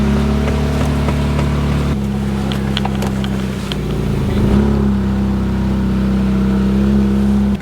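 A car engine hums steadily as the vehicle is driven off, with a loud, continuous low drone that shifts in pitch a couple of times as it pulls away and picks up speed, with no talking.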